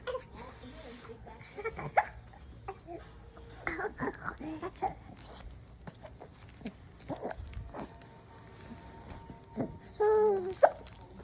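A baby with a colostomy bag hiccuping, a series of short, irregular hiccups scattered among soft rustling and an adult's voice, close by and moderately loud.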